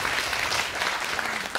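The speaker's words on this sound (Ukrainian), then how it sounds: "Оплески мені поки що, да, це так." Audience applause at a live Ukrainian comedy storytelling show in Lviv, a steady dense wash of clapping that holds at even loudness throughout.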